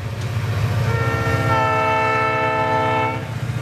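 A Burlington Northern General Electric U30C diesel locomotive, coupled to an SD40-2, rumbles close by while its horn blares a sustained chord for about two seconds over the engine's deep throb.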